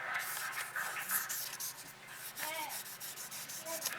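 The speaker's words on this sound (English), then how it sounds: "So just do a lot of wet sanding and make sure it stays wet." Quiet, steady wet sanding with sandpaper on a plastic model kit in short back-and-forth strokes, soft and close, with faint watery swishes.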